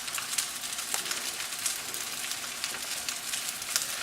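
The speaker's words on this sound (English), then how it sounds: "Put the egg in. Let it sit for a minute and start to cook." An egg fries in a pan beside a pile of fried rice, giving a soft, steady sizzle with faint crackles and pops, fairly quiet and without talk.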